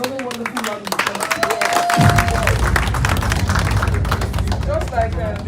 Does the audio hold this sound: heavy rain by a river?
no